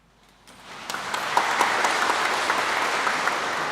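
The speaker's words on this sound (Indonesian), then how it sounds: "Tidak boleh tepuk tangan ya." Applause from a church congregation at an Easter Vigil Mass swells in after a moment of quiet, then holds as a dense, steady patter of clapping.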